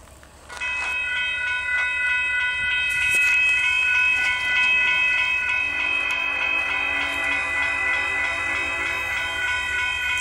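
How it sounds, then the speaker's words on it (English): A Kansas City Southern freight train, locomotive 4181, passes through rural Saint Elmo, Illinois, its horn sounding loud and sustained over rumbling wheels and rhythmic rail clatter as it goes by close at hand. "Kansas City Southern Freight Train."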